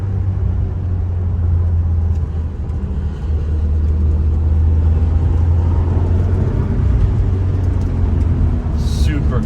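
A 1973 BMW 2002 cruises along back roads with a steady, deep engine drone and road rumble heard from inside, with voices talking over it.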